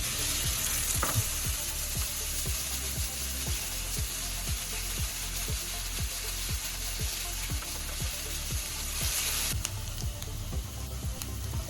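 Steady, loud sizzling of onion frying in hot oil, with regular clicks of stirring throughout.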